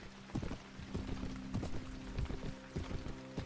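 Horse hooves pound in a rapid, uneven gallop during a medieval peasant-rebellion battle in Mount & Blade Warband, a faint rhythmic clatter of impacts layered over a low hum.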